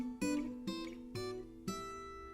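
Four plucked sixth intervals on a guitar, played one after another at a moderate, even pace. Each two-note chord rings clearly and decays before the next, heard alone with no voice.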